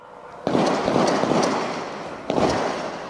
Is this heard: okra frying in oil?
no